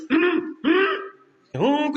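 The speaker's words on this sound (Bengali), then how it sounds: "বিনা কারণে গলা কাশি দেওয়া নামাজ ভঙ্গের একটি কারণ" A voice makes three short, voiced throat-clearing sounds, close and fairly loud, separated by brief pauses.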